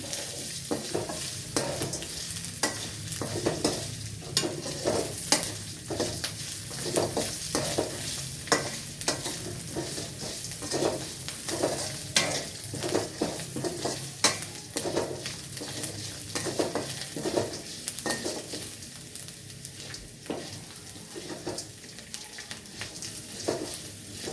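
Urad dal roasting in a pan until brown, with continuous dry sizzling and a brisk, regular rhythm of stirring scrapes against the pan, close and steady with no talking.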